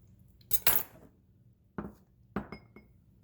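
A metal utensil leveling a quarter cup of sugar in a measuring cup, one quick close scrape followed by a few light clinks and taps in an otherwise quiet kitchen.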